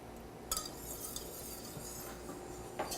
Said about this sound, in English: Now we're going to give it a nice whisk until it boils.